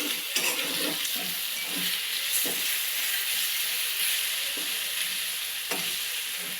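Homemade and store-bought mutton masala sizzle and fry in a pan as a spoon stirs and scrapes through the mixture, a steady close crackling hiss with soft scraping strokes and no talk.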